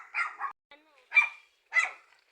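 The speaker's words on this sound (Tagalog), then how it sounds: "Ang daming aso." Several dogs bark in short separate bursts near a small farm and garden on a hill, with quiet gaps between the barks and no talk.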